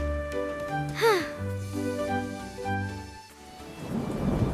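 Rolling thunder and steady rain under swelling orchestral music, with a swooping tone near the start and the downpour growing louder at the end.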